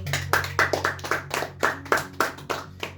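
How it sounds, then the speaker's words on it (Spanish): A church congregation claps along in a steady rhythm during a Spanish-language sermon, roughly a dozen sharp, close hand claps over a low background hum, with no voices over it. "Dale un fuerte aplauso para Él."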